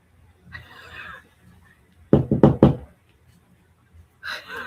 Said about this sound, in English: Knock on the wall.